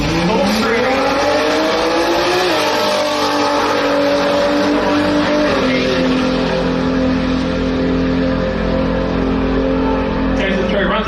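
A modified compact drag racing car making a run down the drag strip at the 2024 Brisbane Jamboree, a loud continuous engine roar with rising and shifting tones, under excited commentary.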